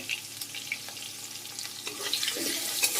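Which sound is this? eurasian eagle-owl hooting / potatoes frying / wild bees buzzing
potatoes frying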